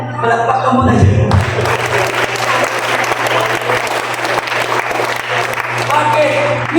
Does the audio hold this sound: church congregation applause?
yes